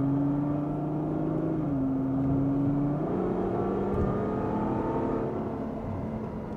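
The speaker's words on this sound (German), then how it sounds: "Also beschleunigen tut er super." A 2016 Ferrari GTC4Lusso with a naturally aspirated V12 of almost 700 hp pulling hard on the Autobahn, steady loud engine drone rising through gear changes from inside the cabin, no talk.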